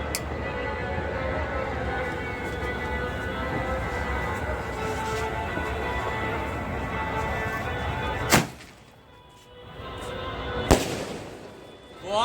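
Skyshot fireworks set off for Diwali, a dense, continuous crackling barrage of bursts that suddenly cuts out, followed by a couple of sharp, isolated booms in the quieter tail.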